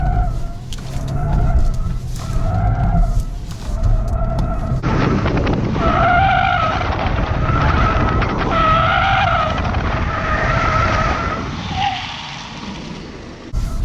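A BMW M Sport sedan driven hard, its tires squealing in repeated tonal bursts over a loud, steady engine and road roar, close by with no talking.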